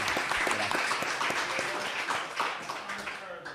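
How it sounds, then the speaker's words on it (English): An audience gives a full, dense round of applause for the panelists at a forum on immigration and housing in Charlotte, loud and sustained throughout with faint voices mixed in. "An applause for our panelists."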